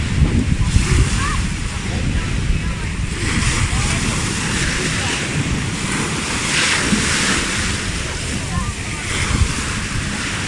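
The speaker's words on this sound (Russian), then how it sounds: "и вот само море." Sea surf at a Pattaya beach in the evening rolls in as a continuous, broad wash mixed with wind rumble on the microphone, with a murmur of background voices underneath.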